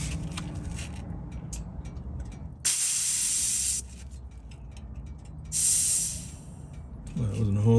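Pressure let out from a valve while fitting a Carli high mount stabilizer on a 2019 Ram Power Wagon, two loud sharp hisses of about a second each, separated by quieter handling noise.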